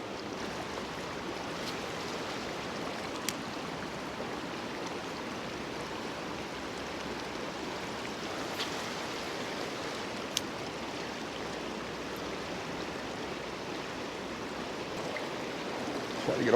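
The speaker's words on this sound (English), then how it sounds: "there's like 3 or 4 like little waterfalls" A trout stream runs over three or four small waterfalls, giving a steady, broad rushing wash of water that holds constant throughout, with a few faint clicks and no voices.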